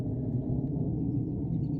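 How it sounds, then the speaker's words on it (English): A Boeing Dreamlifter cargo plane passes overhead, heard as a faint, steady, low rumble filling the background without any clear peak. "dream lifter going over us."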